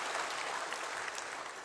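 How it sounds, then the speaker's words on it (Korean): Sustained applause from a church congregation thanking and encouraging teachers, a thick, even roar of many hands clapping together, loud and unbroken. "우리 이분들에게 감사의 박수를, 격려의 박수를 드리십시다"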